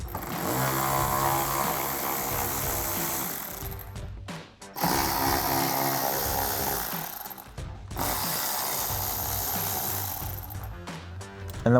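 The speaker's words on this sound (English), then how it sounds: "We'll grab a 10mm socket to get these out." A ratchet wrench with a 10mm socket works on a car's bumper bolts, making a continuous clicking whir in three long bursts separated by short pauses, close and fairly loud.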